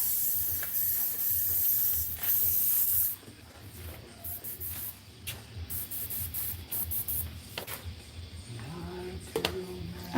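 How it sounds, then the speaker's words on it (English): An airbrush sprays paint in short hissing bursts, loud at first and then lighter, intermittent puffs with small handling noises and a faint background. "now he's starting to do airbrush into his walk-in"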